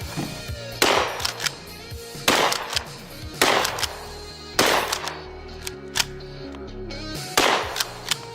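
A cheap Chinese-made shotgun fired with game load shells, five loud, close blasts spaced roughly every one to two seconds, each with a sharp crack and short rumbling decay, no speech.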